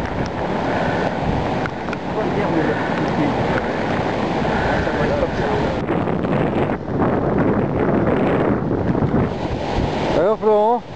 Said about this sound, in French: Des vagues de 3 mètres de haut.